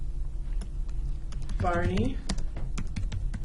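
Someone types a short word on a computer keyboard. Quiet clicks run faintly throughout, and a brief spoken word cuts across the middle.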